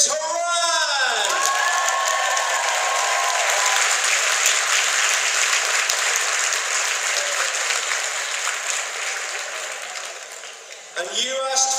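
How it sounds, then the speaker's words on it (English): Loud sustained applause from a convention audience welcoming voice actors, dense clapping filling the room and tapering near the end as an announcer's voice starts over it. "please give them an equally big round of applause"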